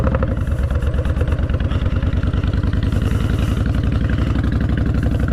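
A motorcycle engine idles close by in a steady, loud, rapid putter that runs evenly throughout, with no talking.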